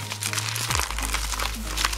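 Plastic packaging of a mail parcel crinkles and rustles loudly up close as it is carefully opened, with dense irregular crackles throughout and a low hum underneath.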